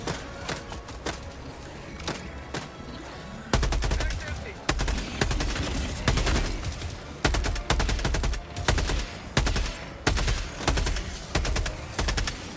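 Rapid bursts of gunfire in a video game, sharp repeated shots in irregular clusters growing louder after a quieter start, with a recoilless rifle among the weapons being fired.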